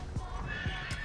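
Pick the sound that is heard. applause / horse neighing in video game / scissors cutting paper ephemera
horse neighing in video game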